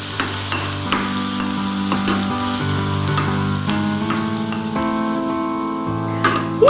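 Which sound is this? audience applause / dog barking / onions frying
onions frying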